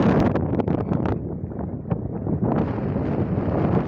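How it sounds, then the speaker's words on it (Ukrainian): Strong wind buffeting the microphone beside a beehive with a constant, loud roar and rumble, gusting unevenly throughout with no voices. "Дуже сильний у нас вітер"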